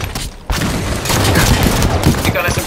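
Rapid submachine gun fire in a competitive first-person arena shooter match, a dense sustained burst of shots filling the clip after a brief quieter opening, close and loud.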